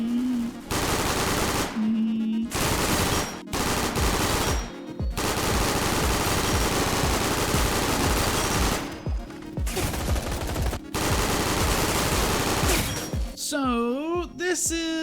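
Vector submachine gun firing in a video game, long rapid bursts of loud automatic fire with brief pauses between, and a voice talking near the end.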